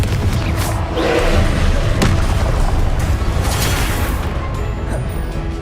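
Confringo fire-blast spell in the game Hogwarts Legacy, a dense booming roar of explosive impacts with thuds and crackle, loud and continuous over several seconds.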